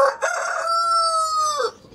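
A loud, close crow from an imported rooster, one full cock-a-doodle-doo rising and holding before trailing off, with no other sounds around it.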